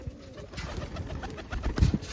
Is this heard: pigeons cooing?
yes